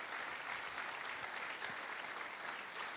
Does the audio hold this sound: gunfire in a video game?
no